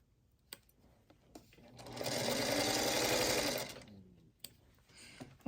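A sewing machine runs in one steady burst of about two seconds while stitching pieces of a checkerboard star quilt block, close and fairly quiet, with light handling clicks before and after.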